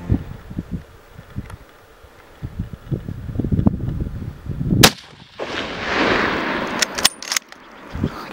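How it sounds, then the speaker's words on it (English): A rifle shot cracks once mid-clip while hunting bear in an Oregon canyon, followed by a gust of wind noise and a few sharp clicks, with faint rustling before the shot. "Okay, I just shot a bear about 150 yards down in this canyon."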